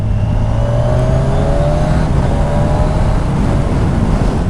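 A 2022 Kawasaki Ninja 1000 SX motorcycle pulls steadily with loud, continuous engine drone and wind roar, its pitch stepping up through quick-shifter upshifts with no talking.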